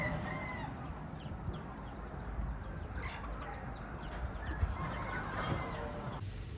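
Chickens cluck and a rooster crows outdoors on the Big Island of Hawaii, the clucking carrying steadily at moderate distance with a crow standing out partway through.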